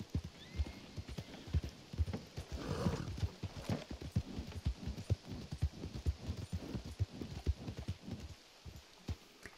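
Horse hooves clip-clop in the video game Red Dead Online, a close, steady, rhythmic run of many hoofbeats with occasional faint rustling in the background.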